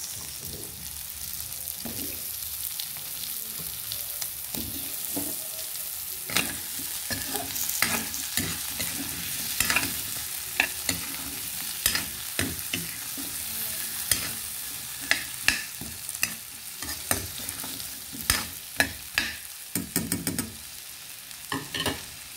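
Potato pieces frying in a pan for a Filipino afritada, with a steady close sizzle and repeated scraping and clinking as a utensil stirs them, the clatter growing busier toward the end.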